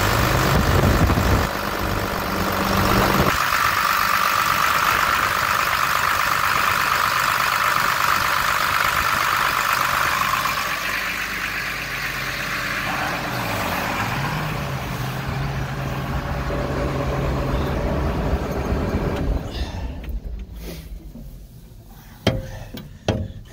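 An engine cranks over after a fuel leak repair, catches, and settles into a steady idle that keeps running for some seconds before cutting off near the end, leaving a few clicks and clatters.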